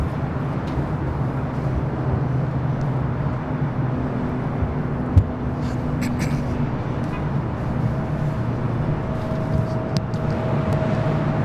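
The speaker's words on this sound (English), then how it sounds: "And the E195 E2 next takeoff on the south side." Embraer E195-E2 jet taking off at LAX, a steady broad roar with low rumbling tones heard from a distance, faint clicks over the top and no clear speech.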